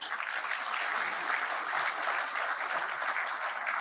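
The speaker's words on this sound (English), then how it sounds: "This is where you applaud." Sustained audience applause at a basic education sector conference, a dense, even wash of clapping from a large crowd lasting several seconds with no break.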